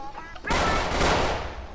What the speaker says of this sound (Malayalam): വയറ്റിലൊരു വെടി കിട്ടി